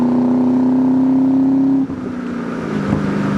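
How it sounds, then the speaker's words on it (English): A 2001 Ford Mustang Saleen's exhaust holds a loud steady idle-like drone, then the note shifts and rises slightly as the engine is revved, heard close with no talking. "Let you hear the exhaust a little bit."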